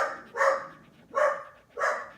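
A dog barks three times indoors at an even pace, each bark sharp and fairly close, with quiet between.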